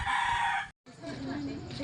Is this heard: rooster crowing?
yes